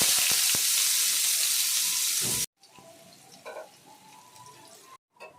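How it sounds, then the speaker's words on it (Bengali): Chopped onions hit hot oil in a wok already seasoned with crushed garam masala and whole cumin, giving a loud, dense sizzle for about two seconds before it cuts to quieter, lighter crackling with brief pauses. "এবার এর মধ্যে দিয়ে দেবো আমি পেঁয়াজ কুচি"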